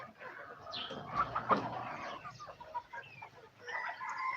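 Chickens and brooding hens cluck softly and irregularly nearby on a small local farm, with scattered chirps, a few louder squawks and faint background activity.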